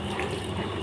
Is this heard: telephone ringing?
no